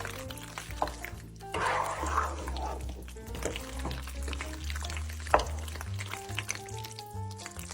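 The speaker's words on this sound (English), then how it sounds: "Add in your cavatappi noodles to your cheese sauce" Cooked cavatappi noodles are stirred into a cheese sauce, giving wet, squelchy, sticky sloshing up close, with a few sharper clacks over a soft low musical bed.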